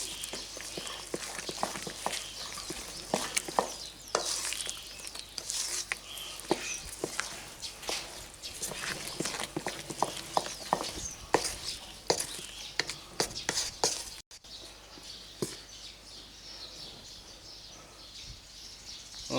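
Bamboo spoon stirring banana bread batter of mashed bananas and eggs in a bowl: irregular soft scraping and tapping strokes, close and steady, with quieter sparse clinks near the end.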